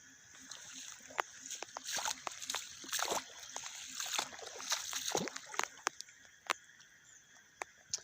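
Feet wading through shallow floodwater in a yard, with irregular splashes and sloshes close by, some sharp and some soft, over quiet background and occasional faint voices.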